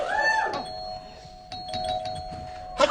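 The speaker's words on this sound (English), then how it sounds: "I'll make a doorbell noise for you" A two-tone doorbell chime rings out near the start, its tone lingering and fading, followed by quiet rustling and a faint voice at the end.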